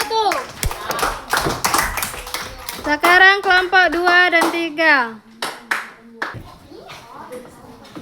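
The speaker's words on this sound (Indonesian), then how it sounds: "Tepuk tangan dulu untuk kelompok" Fifth-grade schoolchildren clap together in a classroom, a burst of quick, close claps and then a rhythmic chant-like clapping pattern, with the teacher and children's voices talking and singing along.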